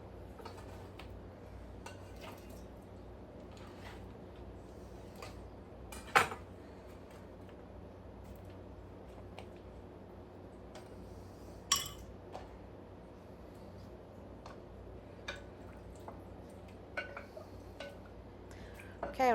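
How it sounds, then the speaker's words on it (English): Pickled cucumbers stirred in a container with a utensil: sparse, faint clinks and taps against the vessel ring out every few seconds over a quiet background hum. "we'll give that a little stir"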